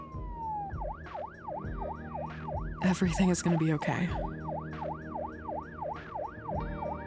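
An ambulance siren wails in a steady repeating up-and-down pattern, fairly faint and distant, with a quiet voice speaking over it and a brief burst of rustling noise midway.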